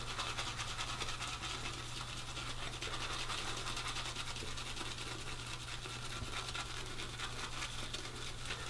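A wet shaving brush swirls lather in a bowl, giving a steady, close, frothy scratching and brushing that runs continuously without pause, over a low constant hum.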